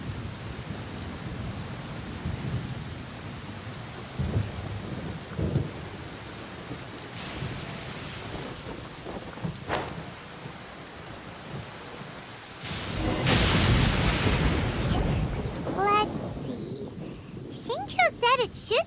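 Rain falls steadily with rolling thunder rumbles in the video game Genshin Impact, the downpour swelling louder partway through, while voices speak over it.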